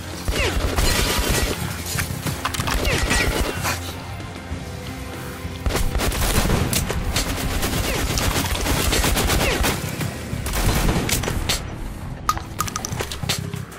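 Rapid bursts of gunfire from the video game Metro Last Light, loud and sustained with overlapping shots and clattering impacts, with no talk over it.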